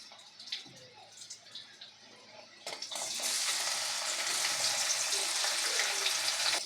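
Quiet clinks and stirring, then a burst of loud sizzling as chopped tomatoes hit a hot pan with browned onions, frying steadily and close.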